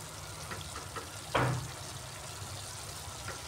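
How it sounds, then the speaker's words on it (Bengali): Spiced masala sautéing with ground tomato and yogurt in a pan for a Bengali dahi bhindi curry, giving a low steady sizzle with one brief louder hiss of frying near the middle, no voices. "এইভাবে টমেটোটা দিয়েও আমি একটু সময় কষিয়ে নিচ্ছি মশলাটাকে।"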